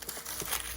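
Dry fallen autumn leaves crinkle briefly underfoot in a garden, a faint papery crumpling in a few quick bursts.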